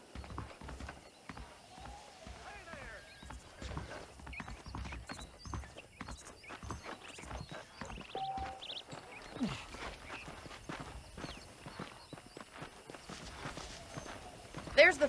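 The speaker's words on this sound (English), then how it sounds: "The horses are saddled up over here." Horse hooves clip-clopping in the Red Dead Redemption video game on Xbox 360, an irregular walking beat of sharp hoof strikes running throughout, with a faint whinny and soft voices underneath.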